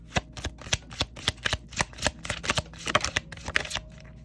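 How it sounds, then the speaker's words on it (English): Tarot cards are shuffled close up in a rapid, steady run of crisp riffling flicks and slaps, continuous throughout with no talking. "so just as I'm shuffling, just think about them."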